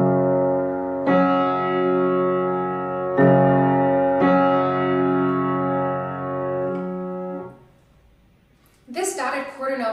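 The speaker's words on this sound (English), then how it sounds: "This image is showing the perfect fifth motif from Opus 12a that occurs throughout the accompaniment." A piano plays the repeated perfect-fifth motif from Jón Leifs' Opus 12a accompaniment, with sustained struck chords ringing one after another. Near the end the piano fades and a voice begins speaking.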